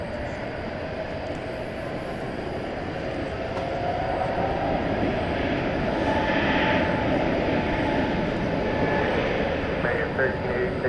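A jet aircraft takes off from runway 18 right at DFW Airport on a Saturday night, a broad, steady engine roar that swells louder as it climbs.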